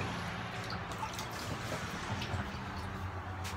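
Purigen-style filter media bags from an FX6 aquarium filter being rinsed in water, giving a steady close wash of dripping, splashing and squishing liquid with no speech.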